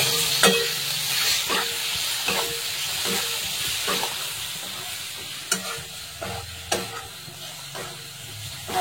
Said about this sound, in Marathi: आता हा सुद्धा 2 मिनिटं छान असा मसाल्यासोबत परतून घ्यायचा आहे